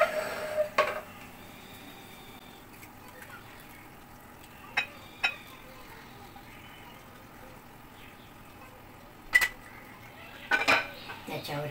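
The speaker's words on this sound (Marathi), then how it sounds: "याला आपण सर्विंग बाउलमध्ये काढून घेऊया." Cooked spinach being moved from a pan into a serving bowl, a few sharp metallic clinks of spoon against cookware spaced apart over a quiet background, with a cluster of scraping knocks near the end.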